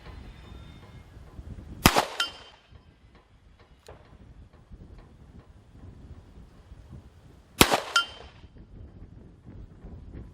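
Two sharp, loud shots from a 5-inch Smith & Wesson .357 Magnum seven-shot revolver, about six seconds apart, each fired at a 10-inch steel plate roughly 70 yards away and followed by a faint distant ring.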